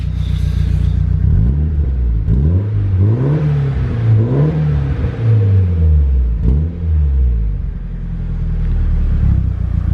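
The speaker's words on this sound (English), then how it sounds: "let's hear this beautiful purple, grayish, bluish 180 SX Type X" A Nissan 180SX Type X with an SR20DET engine revs up repeatedly in several sharp rising and falling blips over a rumbling idle, loud and close, with no talking.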